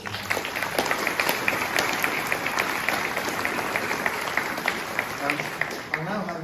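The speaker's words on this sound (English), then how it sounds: "I think they deserve a round of applause for what they've" Applause from an audience at a school Year 7 information evening, honoring students, a fairly distant, steady clapping wash that continues throughout.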